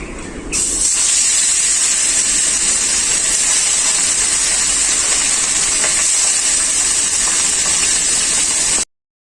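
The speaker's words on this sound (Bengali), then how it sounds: "বাকি মাছগুলো আমি একইভাবে ভেজে নেব" Pieces of bhola fish fry in hot oil, giving a loud, steady, close sizzling hiss that runs unbroken for several seconds before cutting off abruptly.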